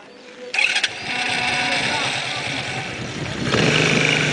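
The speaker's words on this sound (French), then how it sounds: "démarre un peu ta moto et fais un petit tour ici" A motorcycle in a village at Guitrozon, Duékoué, kicks into life with a sharp start, then settles into a steady, close running engine note that swells louder near the end.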